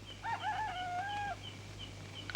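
A rooster crows once in a single long, rising and held call, loud and close, with a steady low hum underneath in a 1973 Indonesian film scene.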